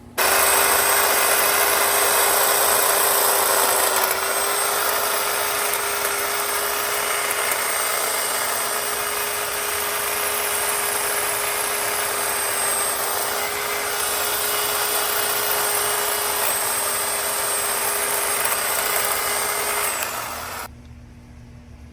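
A compact Homelite hedge trimmer runs steadily for about twenty seconds while cutting tree shrubs, giving a loud, constant motor whine with a high buzzing tone. It stops abruptly near the end.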